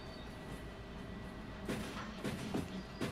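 Train in the game Derail Valley rolls along rails with a steady low rumble, then faint rhythmic clicks of wheels over rail joints joining in, distant and soft.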